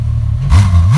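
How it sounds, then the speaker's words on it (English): Ferrari F12 TDF engine close by, a steady idle that jumps into a loud, sudden rev partway through and holds a raised roar to the end. "We're going to get a rev of the TDF."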